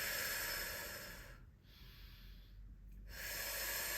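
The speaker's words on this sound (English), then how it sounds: "So we inhale." A steady Pilates breath drawn in through the nose, a close, hissing inhale that swells, fades into a brief quiet gap, then returns as a strong airy rush.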